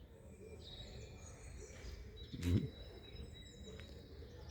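Small birds chirp under a tree outdoors with faint, thin, scattered tweets over low background noise, and one brief louder rustle partway through.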